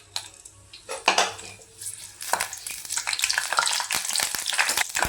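Two broken dried red chillies fry in hot oil in a kadai while mutton chukka is being made, giving a close, crackling sizzle with clinks and scrapes of a metal utensil against the pan.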